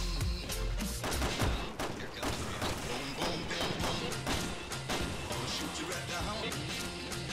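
Dense, rapid gunfire and impacts fill the co-op gameplay of the video game Resident Evil 6, with shots cracking in close bursts throughout and players talking over the action.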